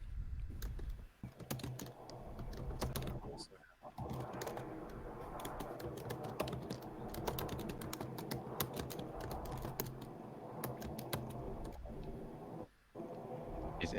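Loud, rapid typing on a computer keyboard clatters continuously at close range, dense keystrokes with a couple of brief pauses and no speech.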